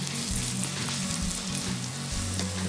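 Welsh cakes, small rolled and sliced griddle biscuits, fry in a hot pan outdoors, giving a steady close crackling sizzle with low rumbling underneath and no talk.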